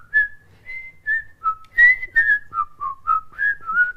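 A person whistles the Andy Griffith Show theme tune alone, a clear melodic line of short sustained notes that steps up and down in a steady, close, fairly loud phrase.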